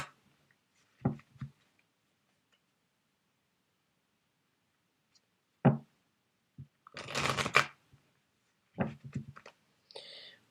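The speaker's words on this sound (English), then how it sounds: "Mitch McConnell, let me just shuffle these cards" Cards being handled and shuffled in short bursts separated by silence, with one longer riffling flurry in the middle; close and fairly quiet.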